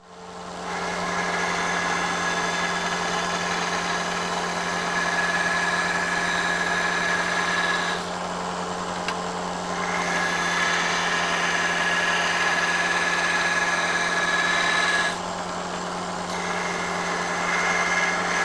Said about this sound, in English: I'm going to finish it off on the little belt sander, because I can make the sort of circles a bit easier and smooth out these edges